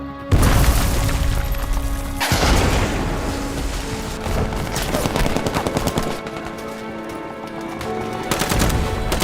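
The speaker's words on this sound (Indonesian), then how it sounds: "ISIS membombardir mereka dengan meriam dan mortir tanpa henti." Battlefield bombardment from cannon and mortar fire rumbles continuously, with heavy booming blasts at intervals over dense crackling bursts of gunfire, loud and chaotic without a break.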